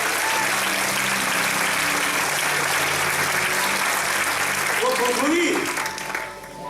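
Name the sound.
congregation applauding in church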